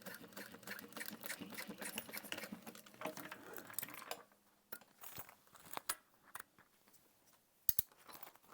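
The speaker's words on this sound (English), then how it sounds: "essentially top stitching over where we already sewed the zipper in place" A sewing machine top-stitching over a sewn-in zipper on clear fabric runs in a continuous whirring stitch for a few seconds, then stops, followed by scattered soft clicks and handling noises.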